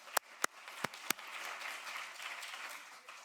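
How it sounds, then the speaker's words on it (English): Applause from an audience at a high-level conference on youth and prevention, opening with a few loud isolated claps before settling into steady, moderately quiet clapping from a crowd in a hall. "Please, a big round of applause."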